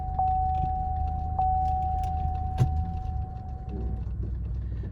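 A 2007 Cadillac DTS engine idling in a repair shop, a steady low rumble and hum that holds through the whole moment, with a faint tonal whine and a brief soft clunk partway through.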